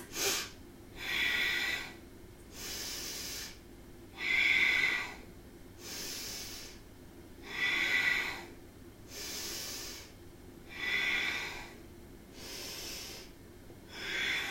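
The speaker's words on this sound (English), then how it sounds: "Let's see if we can really go for a strong and deep breath." Strong, deep breaths during a core exercise, with about seven forceful nasal exhales in an even rhythm every two seconds or so, close and clear over quiet background.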